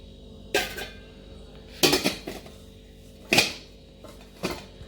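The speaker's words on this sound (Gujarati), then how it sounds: "જો મઠને પણ એવી રીતે જ ફિટ બંધ કરીને એરટાઈટ ડબ્બામાં બંધ કરી દેવાના છે" An airtight container holding moth beans is closed by hand, a series of four sharp clinks and clatters with short gaps between them, close by against quiet background hum.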